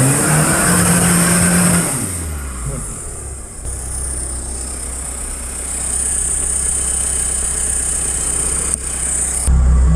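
An off-road vehicle stuck in mud at an off-road event near Iasi revs hard and close: a steady, loud engine roar that dips and then climbs again, with a louder burst of revving at the end.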